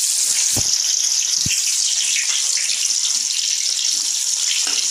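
Onions tipped into hot oil with popped mustard seeds, giving a loud, steady hiss and sizzle of frying with a couple of low knocks near the start.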